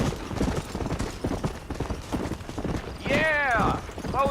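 Horse hooves gallop in the video game Red Dead Redemption, a steady rhythmic clip-clop close by under men's conversation, with a brief whinny near the end.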